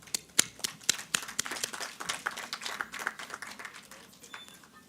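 Conference audience clapping, a burst of sharp close claps that thickens into a patter of many hands and then slowly fades, moderately faint with no talk over it.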